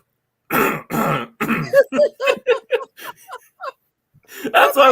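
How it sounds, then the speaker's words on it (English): A man clears his throat with a few harsh, rasping bursts, then a run of rapid guttural hacks fading out, close to the microphone, followed by a brief renewed rasp. "you muted your mic so you can clear your throat, right? We still heard it"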